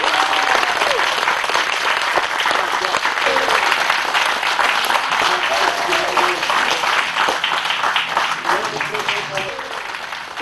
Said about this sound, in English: And a round of applause once again for your 211 Lotus Cup Europe class winner.